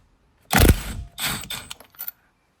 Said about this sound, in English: the good thing about using this impact wrench like this is that it makes taking off the steering wheel really easy